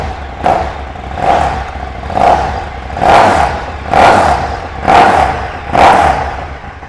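A 2017 KTM Superduke R ABS naked motorcycle on its standard exhaust fires up nearby and is blipped in seven evenly spaced, loud revs, each rising and falling back to a steady idle, with no talking.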